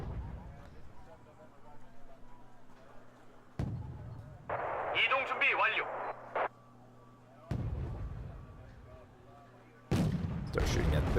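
Mortar and artillery fire in a strategy video game: several sharp booming impacts and bursts at irregular intervals, with a crackling flurry midway, over a low steady hum and a talking voice.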